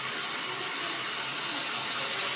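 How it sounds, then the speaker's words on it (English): Shower running with a steady, dense hiss of falling water, constant and fairly loud throughout with no pauses or voices. "Joe's been in the shower for more than 15 minutes."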